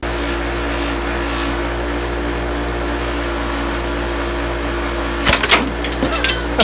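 Motorized polishing wheel buffs the acrylic lens of a military gauge, a steady close machine drone running throughout, then harsh scraping bursts erupting near the end as the lens meets the wheel; no talking.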